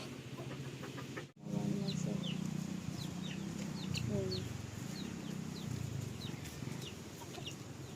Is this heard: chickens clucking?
yes